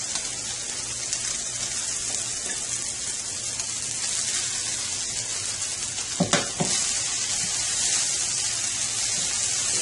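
Quinoa stirred through mushrooms and garlic in a hot pan gives a steady, close, bright sizzle throughout, broken once by a brief scraping clatter of stirring near the middle.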